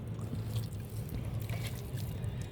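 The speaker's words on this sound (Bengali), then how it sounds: "পুরো আধা কিলো সরিষার তেল" Half a kilo of mustard oil is poured onto puffed rice from village-roasted rice at a picnic, making a soft, faint, continuous trickle with a few light drips under quiet background noise.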